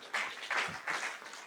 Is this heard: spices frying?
no